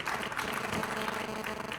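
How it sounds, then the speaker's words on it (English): Brief applause at a political candidates' forum in Queensbury, New York: a short burst of audience clapping that is dense and moderately loud throughout. "Stop that applause."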